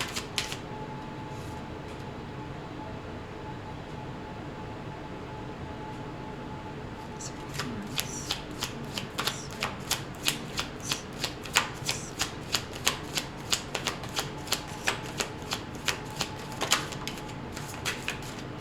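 Tarot cards being shuffled by hand during a love reading, first a quiet stretch and then a run of quick, close riffling snaps and soft card slaps in an irregular rhythm.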